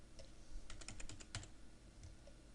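Computer keyboard typing as a supplier name goes into invoice software: a quick cluster of light, close key clicks over a steady hiss, then a few scattered taps.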